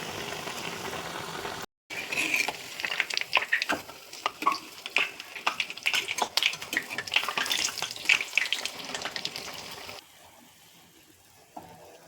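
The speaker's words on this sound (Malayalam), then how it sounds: "ഇത് ഈ മാവിൽ മുക്കിയിട്ട് ചൂടുള്ള എണ്ണയിലേക്ക് ഇട്ട് കൊടുക്കാം" Batter-dipped banana fritters crackle and sizzle in hot oil, a steady bubbling hiss with sharp pops, briefly broken near the start and cutting off toward the end, with no talking.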